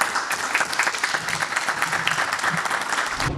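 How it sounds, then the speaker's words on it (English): Audience applause welcoming a startup founder onto the stage at a pitch event, a dense, steady wash of clapping throughout. "With a round of applause"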